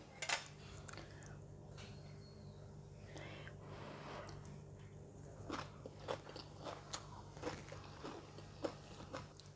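Crunchy stir-fried cabbage and carrots with egg being eaten, soft close-up bites and chewing crunches crackling over a steady low hum, with faint clinks of cutlery against a dish; quiet and continuous.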